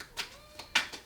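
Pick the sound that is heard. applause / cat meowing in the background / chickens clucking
cat meowing in the background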